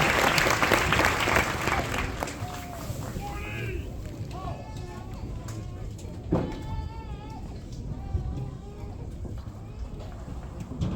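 Crowd applause for retirees and their families at an Army basic combat training graduation ceremony, sustained clapping that swells early then continues more softly, with scattered cheers and voices mixed in.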